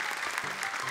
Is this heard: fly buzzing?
no